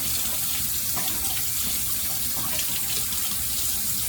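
A tap runs steadily into a sink to warm and wet a razor before shaving, a loud, even, continuous water rush with no voices.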